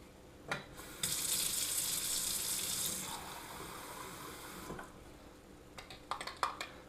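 Milwaukee tap water pours from a kitchen faucet in a steady hissing rush lasting a couple of seconds, then tapers off, followed by a few light clinks and taps near the end.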